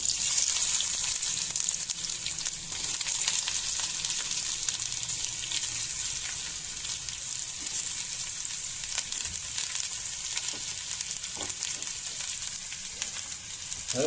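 Sliced onions fry in oil with fennel seeds, a dense, even sizzle and crackle that stays steady and close throughout, with faint occasional clicks and no talking.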